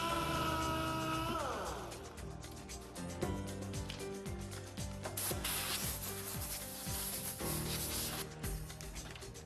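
Sanding paint and primer off a plastic car bumper cover down to bare plastic, a continuous close rubbing and scraping with rhythmic back-and-forth strokes, no voices.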